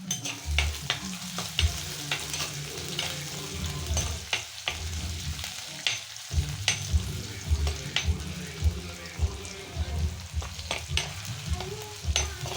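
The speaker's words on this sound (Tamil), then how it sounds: "இப்போ இதை நல்லா வதக்கிக்கலாம்" Ingredients sizzling and being stirred in a hot pan, cooked Kerala style in a home kitchen, with steady frying hiss and repeated scraping strokes of a spoon, close and continuous.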